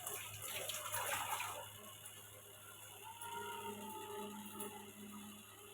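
Water splashes and runs steadily while fresh home-grown curry leaves are rinsed in a kitchen, with light clinking and rustling throughout.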